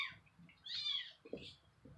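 A cat in a household with a Maine Coon gives a couple of short meows, close and fairly clear, with low murmuring in the background.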